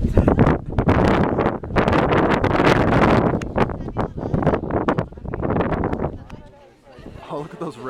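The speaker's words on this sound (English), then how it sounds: "Top of this mountain with the wind." Strong wind on the summit of Mount Sinai buffets the microphone in loud, continuous low rumbling gusts that ease toward the end, with people talking over it.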